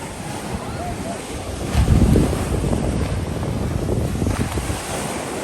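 Surf washes onto a sandy beach on the island of Sir Bani Yas. The waves keep up a steady, loud roar, swelling briefly partway through, and strong wind buffets the microphone.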